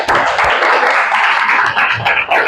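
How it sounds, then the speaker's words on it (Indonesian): A class of students claps together in a classroom, a dense burst of applause that stays steady and fairly loud for a couple of seconds. "tepuk tangan untuk kita semua"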